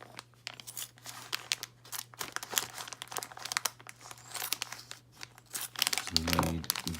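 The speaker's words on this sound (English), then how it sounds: "let's go ahead and cut this bag open" A plastic bag being cut open with scissors, giving crinkling and snipping sounds up close while a person talks over it, followed by a short low electronic beep pattern near the end.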